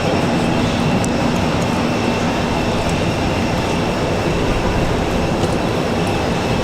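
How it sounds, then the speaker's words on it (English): A Southwest airliner touches down at Raleigh Durham airport amid windy weather, a broad steady roar of jet and rushing noise, loud and continuous with no distinct peaks. "Southwest touching down"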